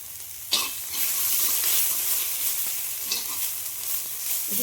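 Crushed onion and ginger-garlic paste frying in a small amount of oil in a pan, a steady bright sizzle with occasional stirring scrapes and a sharp spatter near the start.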